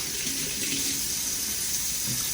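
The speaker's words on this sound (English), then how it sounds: "You get my warm water going" Warm water runs steadily from a kitchen tap for handwashing, a close, continuous hiss and splash with no talk over it.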